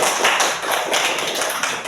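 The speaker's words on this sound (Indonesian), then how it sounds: "tepuk tangan untuk kelompok 1" Classroom applause for a student group, a dense steady patter of many hands clapping close by for about two seconds, no voices over it.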